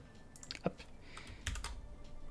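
Quiet, close keyboard typing with a handful of irregular key clicks and one slightly louder tap, over a faint background hum.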